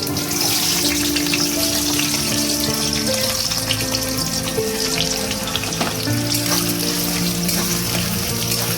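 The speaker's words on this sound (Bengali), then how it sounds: "পেঁয়াজগুলোকে একটু হালকা করে লাল করে ভাজবো" Sliced onions with bay leaf and whole garam masala frying in hot oil, a loud, dense, continuous sizzle close up with a faint tonal hum running underneath and no voices.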